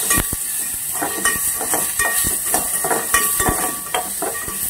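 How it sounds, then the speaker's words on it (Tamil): Onions frying in a pan for stuffed chilli bajji, a continuous close sizzle broken by repeated clicks and scrapes of a spoon stirring against the pan. "அதனால் அதை நல்லா ஃப்ரை பண்ணி எடுத்துக்கிறேன்."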